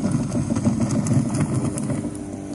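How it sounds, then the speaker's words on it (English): Continuous low engine rumble with a churning, steady drone, like a boat motor played back through a speaker aboard the old ship HMS Unicorn in Scotland, with no talking. "You can hear the boat effects from the speaker."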